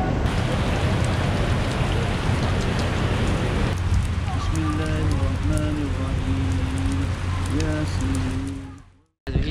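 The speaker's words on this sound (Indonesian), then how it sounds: "tiba-tiba hujan lebat Ustaz" Heavy rain pours steadily at Arafah during the Hajj, a dense loud hiss of drops on surfaces, with people talking underneath in the second half before a brief cutoff near the end.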